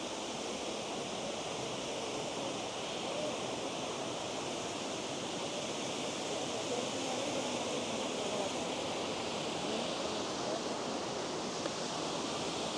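A Black Forest waterfall in Germany pours heavily in an unbroken, even roar of rushing water that holds at a constant level with no voices.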